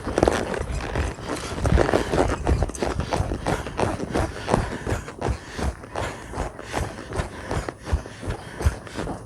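A horse's hooves beat in a steady, repeating rhythm on the ground during a riding exercise to improve balance, loud and close throughout, with faint tack and rider noise alongside.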